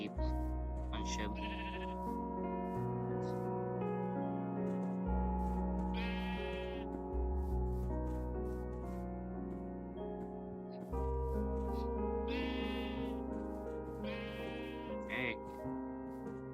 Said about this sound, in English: One sheep.